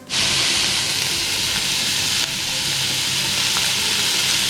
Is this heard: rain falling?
no